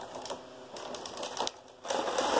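A Knittax/KnitKing knitting machine carriage knits plain rows of a cotton dishcloth, giving quiet, close mechanical clattering in short bursts with a brief lull before the last pass.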